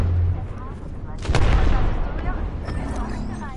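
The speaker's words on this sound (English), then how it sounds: "they're just going to keep on shooting at me." Gunfire rattles in an online shooter video game, a burst of shots and booms swelling in the middle over a dense, noisy game mix with a steady low hum.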